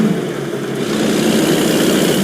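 A big rig truck engine idles in American Truck Simulator, a loud, steady low rumble that holds constant with no talking.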